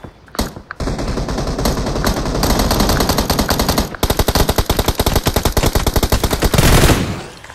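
Sustained automatic gunfire from a machine gun in PUBG, loud and close, with dense rapid bursts running almost continuously across the clip, a short break near the middle, then more rattling volleys.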